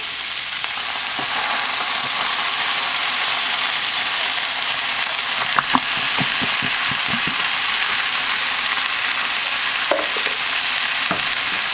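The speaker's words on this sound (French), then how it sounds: "on va faire cuire un petit peu ça, les carottes et les tomates" Canned peeled tomatoes and carrots sizzle steadily in a pan. The hiss is broad and constant, with a few clicks and scrapes of stirring partway through and no talk.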